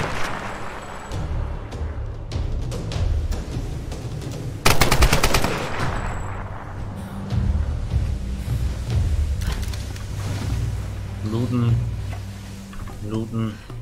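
Enemy gunfire in the Tomb Raider video game during a shipwreck level, with automatic bursts and rapid cracking shots, a dense volley around the middle, set among game music and effects while players talk over it.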